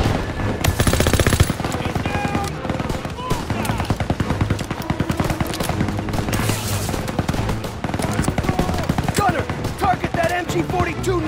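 MG-42 machine guns rattle in rapid continuous bursts during a World War II tank assault in Call of Duty WW2, loud and dense, with more fire and shouted commands layered under and around it.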